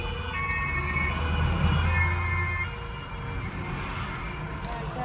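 A wailing fire engine siren with rising and falling tones, moderately loud, fading after a few seconds beneath steady traffic noise in Germany.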